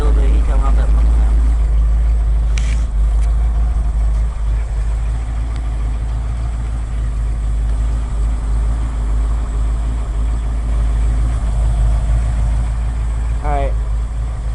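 A flood-damaged 1980 Ford F100 truck engine idles with a steady, low, continuous rumble, joined by a brief faint squeak near the end.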